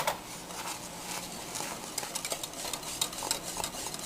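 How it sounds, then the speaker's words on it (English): A whisk stirs thickening lemon pie filling in a pot, giving steady scraping and light clinking strokes in an even rhythm, close and moderately quiet, with no talking. "and keep whisking it."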